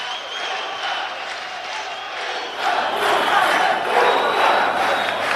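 Arena crowd at an ACB 67 MMA fight night in Grozny roaring and cheering, a loud, continuous mass of voices that swells even louder partway through, with indistinct shouting mixed in.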